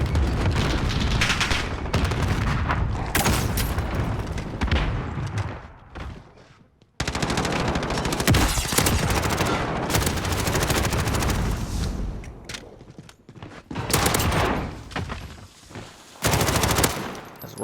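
Rapid automatic gunfire rattles in a Domination match of a competitive video game, with dense bursts broken by short pauses and a near-silent gap, then more shooting that grows sparser and returns in a final burst.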